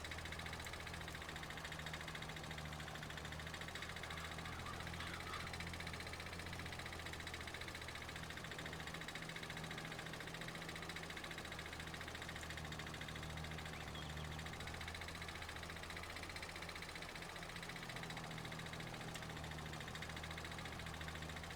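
A small tractor engine from Farming Simulator 22 hums steadily throughout, a continuous mid-pitched idle-like drone with a faint knocking texture, moderately loud and unbroken, with no talk over it.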